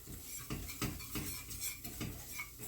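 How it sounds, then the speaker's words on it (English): A utensil stirring butter, onion and celery in a pan makes quiet, repeated scraping clinks at an irregular rhythm over a soft background. "normally I wouldn't make you watch me just stir things"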